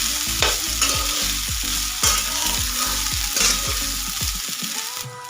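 Sabudana khichdi is stirred in a pan, a repeated series of close scraping strokes over a soft sizzle, about ten strokes in a steady rhythm before stopping.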